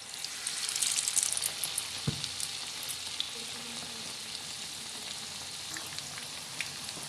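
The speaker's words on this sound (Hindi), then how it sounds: "ऑयल हमारा गरम है, फ्राई होने के लिए डालते हैं ऑयल में।" Batter-dipped bread pakora fries in hot oil, producing a steady, bubbling sizzle with brief louder spatters early and a single soft thump partway through.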